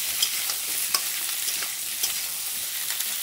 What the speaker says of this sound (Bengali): তো দেখো আগে আমি বেগুনগুলো দিয়ে দিলাম, পেঁয়াজটাও যত ভাজা হবে বেগুনগুলোও ভাজা হয়ে যাবে